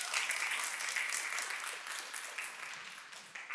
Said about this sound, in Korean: 감사합니다. 박수 주시죠.